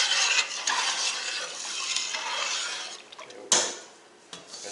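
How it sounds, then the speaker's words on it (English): A spoon stirs muscadine jelly mixture in a pot, making continuous scraping swirls with a couple of sharper knocks against the pot near the end. No voices are heard. "I'm going to put about half of it in, and I'm going to stir it around."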